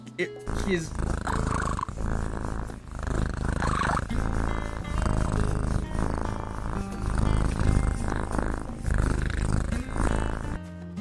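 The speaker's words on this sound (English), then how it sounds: "That's his purr." A cat purrs steadily and fairly loud up close, a continuous low rumble with faint background noise, heard without talking over it.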